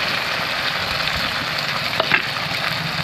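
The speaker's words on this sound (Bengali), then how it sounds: "ভালো করে একটু ভেজে নেব।" Chicken frying in a pan, giving a dense, steady sizzle throughout with a brief stirring scrape around the middle and no voices.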